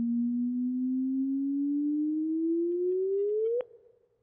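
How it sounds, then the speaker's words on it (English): A computer-generated gravitational wave chirp from a normal black hole merger: a pure tone rising slowly in pitch, then sweeping upward sharply and ending in a quick final blip with a brief fading tail. "But this is just a comparison signal for what a normal black hole merger sounds like."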